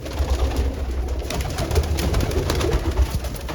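A large pigeon coos close by, low murmuring calls in a constant soft stream with a faint background hum and no talking.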